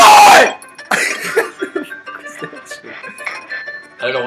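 A single harsh cough bursts out at the start, followed by clinking glass and a voice talking nearby.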